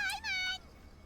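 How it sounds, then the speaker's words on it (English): A cat in the Genshin Impact video game gives two quick rising meows in a row, close and clear, then falls silent against faint background hum. "Oh, it's a kitty."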